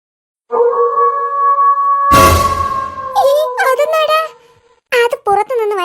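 A cartoon dog gives a long, wavering fox-like howl that holds steady for a few seconds, then a sharp noise burst cuts in and animated voices talk over and after it.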